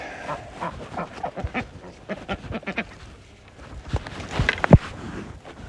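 Ducks in a chicken house and pen quack and chatter in scattered bursts, several birds calling close by over a busy, uneven background with no speech.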